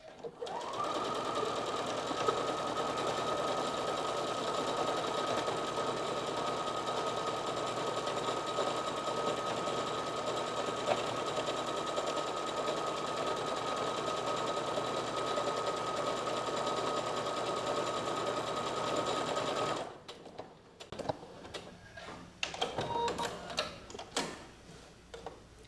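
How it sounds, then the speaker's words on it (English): A sewing machine stitches a buttonhole on a blouse, running in a steady, fast, continuous whir for most of the clip before stopping, followed by a few soft handling clicks and rustles. "And then I just start sewing."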